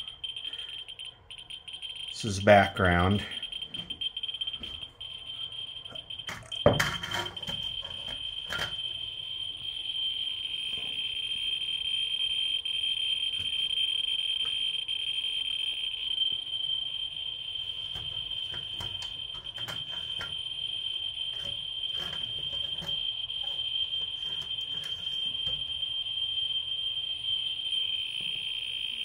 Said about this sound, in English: Here's an old smoke alarm.